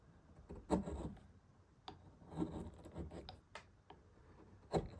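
A sharp chisel carves a wooden chess piece, producing quiet, irregular scraping and cutting strokes close by, several brief louder gouges among soft rubbing.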